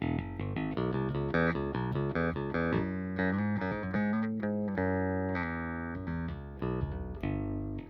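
A Sterling by Music Man RAY34 HH electric bass played on the front pickup plays a steady run of notes with a round, warm tone, continuous and fairly quiet, no voices present.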